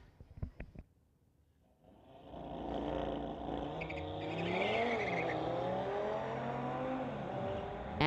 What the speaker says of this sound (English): We've got Mike from Abbotsford in his 2019 Audi on the pit side